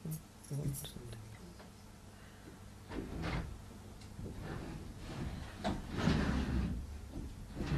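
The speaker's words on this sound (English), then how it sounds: "I close the door, I think." A door being closed in a room, heard as a few muffled thumps and rustles amid low murmuring voices and room noise.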